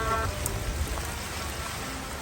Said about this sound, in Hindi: विलेज में दोबारा बारिश जो है शुरू हो चुकी है